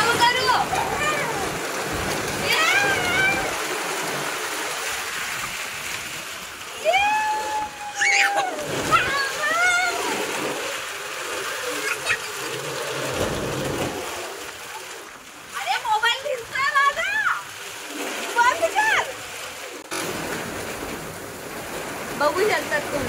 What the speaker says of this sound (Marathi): बापरे एवढी हवा सुटलेली आहे आणि त्यात पाऊस पण